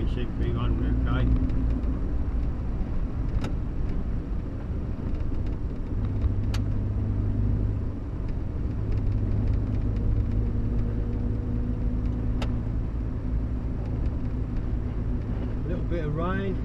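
A Morris Minor on the road, back on points ignition, its engine holding a steady low rumble with road noise through the whole drive. A voice may be faintly present.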